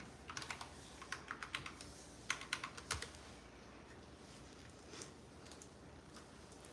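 Someone types on a computer keyboard, fast bursts of crisp clicks and clacks close by, tapering to scattered single key presses, with no talking.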